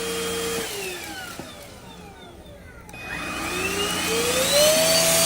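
A NADALY cordless vacuum cleaner runs steadily and loud, its motor whine sweeping down and then climbing as power shifts toward turbo, with no talk over it.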